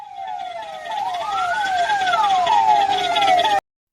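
An ambulance siren wails loudly and steadily, its tone sweeping in repeated rising and falling cycles with one long upward glide in the middle, heard alone with no voices.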